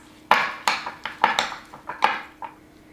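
A spoon clinking and scraping in a bowl while cinnamon, nutmeg and pecan pieces are mixed for baked apples: about seven sharp, close knocks in an uneven rhythm, each ringing briefly, with no talking.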